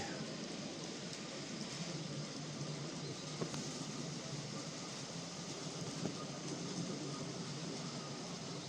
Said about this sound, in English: Typical, the coal train gets in the way